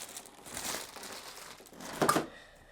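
Plastic bag crinkling and crumpling close by, with a steady rustle and a louder burst of crushing near the end; no talking.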